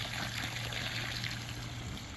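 A pot of pool chemical is tipped into a pool holding over 10,000 litres of water, giving a soft, steady trickle and pour with no voices.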